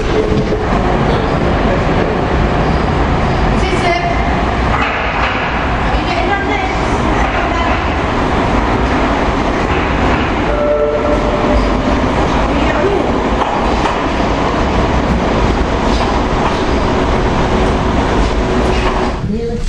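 A Class 323 electric train arriving at a station in Manchester, with a steady loud rumble and rolling rail noise, squeals and clatter that fill the whole stretch, heard up close from the platform.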